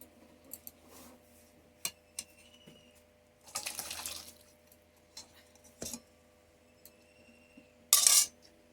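Garam masala powder is stirred into a jackfruit curry, with sparse metallic spoon ticks and clinks against the pot and a few short scraping bursts, the last one loudest, in an otherwise quiet kitchen.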